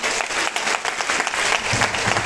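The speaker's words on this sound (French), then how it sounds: "Acclamons très fort le Seigneur." A church congregation bursts into sustained, loud applause mixed with cheering, a dense wash of clapping that fills the whole space without letup.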